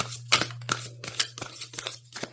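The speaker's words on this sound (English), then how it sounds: "Let me just do one more shuffle to get them all back together again." A deck of tarot cards is shuffled in quick, crisp riffling bursts, several separate flicks and snaps close by with short pauses between, over a low steady hum.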